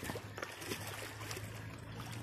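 Clear river water in the Calawis mountains swirls and trickles around Lolo Kidlat's motorcycle as it is dipped in, a steady low wash of flowing water with soft gurgles, fairly quiet and with no talk.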